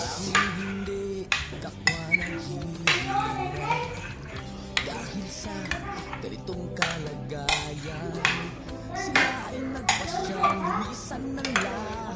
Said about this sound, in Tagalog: I-mix lang natin ng i-mix mga kasaklap para yung cream is mahalo.